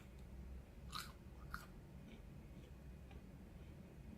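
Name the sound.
eating crunchy onion rings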